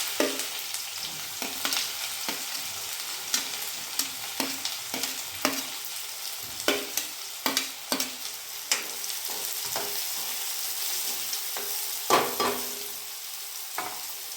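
Onions sizzle steadily in a pan for a village-style chickpea curry, with a spoon scraping and stirring in irregular taps and clinks over the constant hiss, close by.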